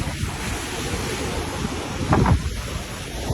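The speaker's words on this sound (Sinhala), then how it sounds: "මේ විදිහටම ජලස්කන්ධ මේ පල්ලෙහාට ඇදගෙන යනවා" Floodwater released from the Moragahakanda dam rushes in a loud, continuous roar, buffeted by heavy wind noise on the microphone, with a brief surge in the middle.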